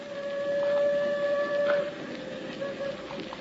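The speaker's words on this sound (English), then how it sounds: "The train's almost here." A train approaching through a canyon sounds a sustained tonal horn over a steady rolling rumble; the horn fades after a couple of seconds while the low roar continues.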